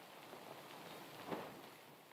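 Steady rain hissing in Death Stranding, a faint even wash of falling drops with a brief slightly louder patter midway.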